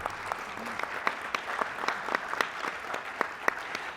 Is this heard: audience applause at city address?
yes